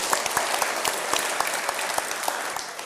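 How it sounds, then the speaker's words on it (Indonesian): Audience applause at an evening talk, a steady wash of many hands clapping with distinct sharp claps popping through, fairly close and continuous throughout. "Tepuk tangan."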